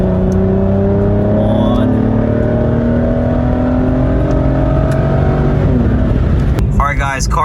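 An Aston Martin engine in sport mode revs with a loud, rising roar that climbs steadily in pitch, heard close from inside the car, with a short spoken remark near the end.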